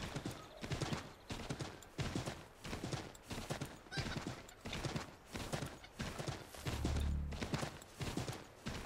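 Hooves clip-clop in a steady, rhythmic gallop while a horse is ridden in Assassin's Creed III, close and continuous, with a low thud near the end.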